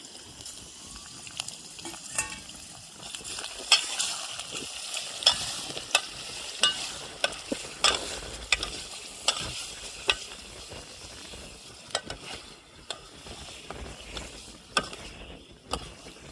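Onion frying in oil for a mutton curry, with a low sizzle under repeated spatula stirs and scrapes, irregular clacks and rattles spread across the stretch, fairly faint overall and without speech.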